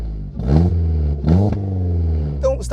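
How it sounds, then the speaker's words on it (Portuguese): Renault Sandero RS exhaust recorded up close at high RPM, with two strong rising rev blips that hold and settle into a steady drone, then a sharper burst near the end; no talking over it. "E agora o escape."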